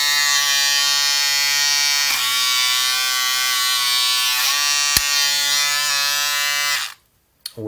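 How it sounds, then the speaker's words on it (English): A Remington electric shaver converted to USB-C runs with a loud, steady buzzing whine, shifting pitch slightly a couple of times before switching off near the end, followed by a brief click. "here we are back with our shaver, all nice and USB magnetic"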